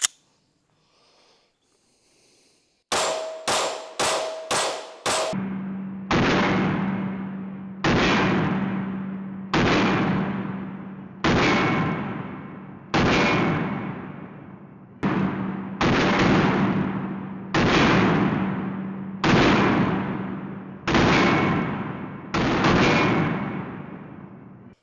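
A string of loud, close pistol shots from an M&P metal-framed handgun, with a quick burst of about five rounds followed by a dozen evenly spaced single shots, each cracking and ringing out before the next.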